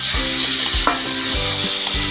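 Prawns frying with spices in a pan, a loud close sizzle with rhythmic scraping stirs about every half second.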